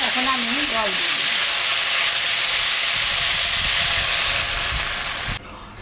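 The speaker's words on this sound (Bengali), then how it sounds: "তরকারিটা কষানো হয়ে গেছে, এখন আমি জল দিয়ে দিলাম।" Water hitting a hot pan of frying bottle gourd and fish curry bursts into loud, steady hissing and sizzling steam that holds evenly before cutting off abruptly near the end.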